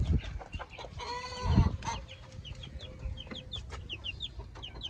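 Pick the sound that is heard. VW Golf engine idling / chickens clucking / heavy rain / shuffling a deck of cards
chickens clucking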